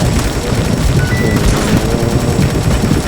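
Sustained rapid gunfire in a video game, a dense continuous fusillade with low booming impacts, loud and unbroken throughout with no talk.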